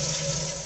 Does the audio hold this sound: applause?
no